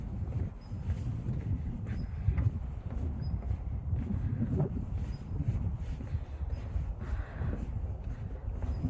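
Wind blows outdoors on a mountain walk, rumbling and buffeting low and fairly steady with gusty swells, along with a few faint high chirps in the distance.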